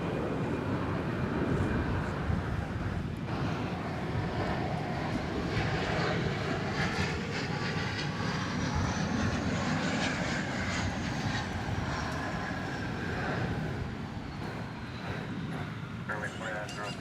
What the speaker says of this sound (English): So there you see Spirit Airlines flight 2902. It's going to Phoenix. It's an Airbus A320.